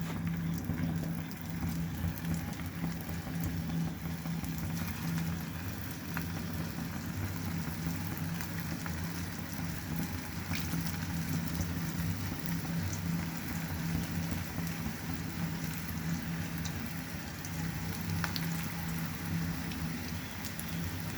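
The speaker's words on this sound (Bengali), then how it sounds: "আমি প্যানে তেল দিয়ে দিয়েছি, তেল গরম হয়ে গিয়েছে। এখন আমি এগুলিকে ভেজে নেব।" Bread and egg chops fry in hot oil in a pan, giving a long, even, dense sizzle that holds steady throughout with a faint low hum beneath.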